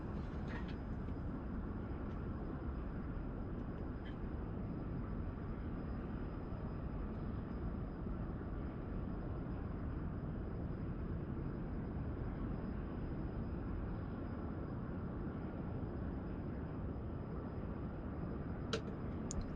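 Sustained broadband roar of an F-100D jet engine with afterburner lit in a flight simulator game, a steady dense rumble holding at even loudness throughout with no talk.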